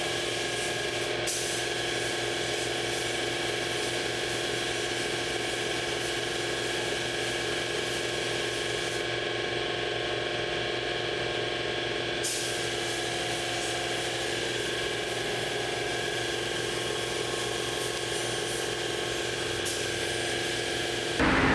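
A paint spray gun lays down automotive clear coat with a steady, loud hissing spray and a constant mechanical drone, continuous and close for the whole stretch, with the pitch shifting briefly midway and no talk.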